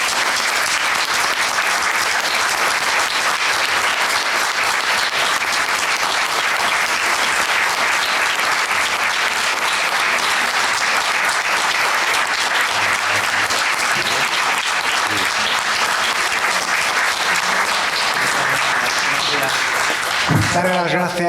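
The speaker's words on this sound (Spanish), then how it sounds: "me gustaría pedir un fuerte aplauso para los homenajeados" A formal tribute event in Valencia ends with a sustained, loud round of audience applause for the honorees, clapping filling the room for about twenty seconds before a voice begins speaking at the very end.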